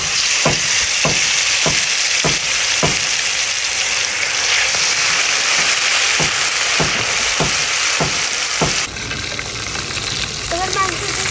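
A marinated piece of chicken fries in hot oil for a homemade burger, a loud, steady sizzle punctuated by evenly spaced clicks and taps, with a slight change in tone toward the end.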